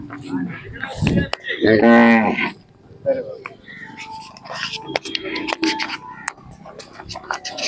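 A Khillar cow moos once, loud and close, at a busy village cattle fair, followed by crowd murmur and scattered knocks and rustles; people talk nearby.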